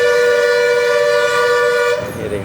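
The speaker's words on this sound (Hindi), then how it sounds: "बस वाला जो है बिला वजह में हॉर्न बजा रहा है" A bus horn gives a loud, long blast holding one steady tone for about two seconds, then cuts off into rumbling traffic noise in Galle, Sri Lanka.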